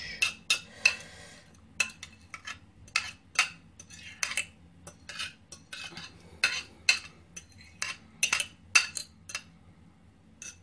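Mashed banana is mixed into pancake batter in a bowl, heard as sharp, close clinks and taps of a utensil against the bowl in irregular bursts, with no talking.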